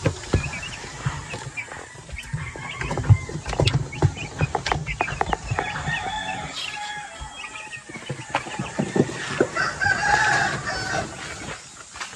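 Pet chickens and chicks in a backyard coop, with steady clucking and a rooster crowing now and then at close range, scattered rustling and low background noise throughout.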